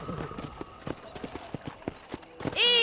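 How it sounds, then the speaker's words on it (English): Horse hooves clip-clop on a ranch property in the Red Dead Redemption video game, an uneven run of crisp, close hoof strikes that gives way to a sudden louder, sustained burst at the end. "I picked out a fine horse for you"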